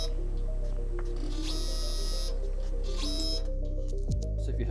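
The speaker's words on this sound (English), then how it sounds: "If you move up and down, it'll move the rollers up and down." A vinyl cutter plotter used to make skins for gaming consoles runs steadily, with a constant low motor hum, whirring roller and blade movements, and a brief sliding sweep near the end.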